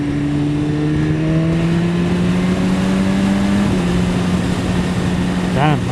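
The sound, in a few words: 2015 BMW S1000RR inline-four superbike engine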